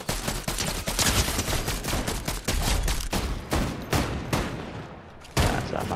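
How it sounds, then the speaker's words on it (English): Gunfire in the Fortnite video game, with loud, close, rapid bursts of shots and sprays of automatic fire repeating with short gaps throughout. "I'm being shot at"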